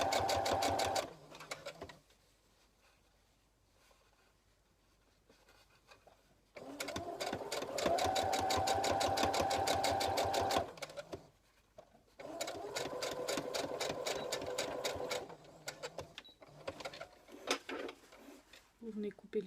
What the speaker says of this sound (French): Et vous venez piquer à 1 mm du bord.